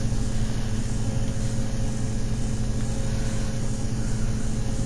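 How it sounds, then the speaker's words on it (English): Bomber plane in a Call of Duty Godzilla versus Kong match, a loud, constant engine drone with a thick low rumble and faint pulsing overtones, running steadily without breaks. "This is a bomber plane."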